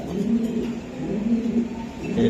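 A red checker male racing pigeon coos loudly and close in low, rolling, throaty phrases that pulse in a repeating rhythm, with no other sounds over them.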